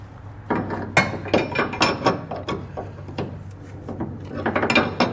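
A crescent wrench tightening a nut on a Firestone Ride-Rite air helper spring on a 2021 Chevrolet, heard as a close series of irregular metallic clicks and ratcheting knocks with brief pauses.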